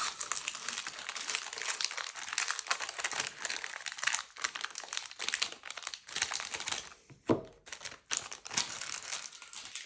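Sealed Decipher Lord of the Rings card booster packs are torn open, giving near, continuous crinkling and crackling of foil wrappers in bursts with brief pauses, alone without talk.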